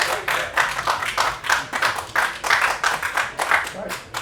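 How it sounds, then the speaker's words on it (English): Audience claps for F1 artist David Johnson in a lounge at the Goodwood Festival of Speed, a close, modest round of hand claps with audible individual slaps, mixed with murmuring voices. "if we just give a round of applause to David for joining us, please"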